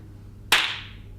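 One sharp hand clap snaps out close and loud to mark the start of a film take, decaying quickly into quiet room tone with no one speaking.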